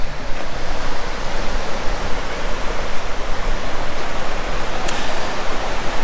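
Surf rolls in steadily on Imperial Beach, California: a dense, continuous wash of breaking waves with no pauses, filling the scene evenly at close range.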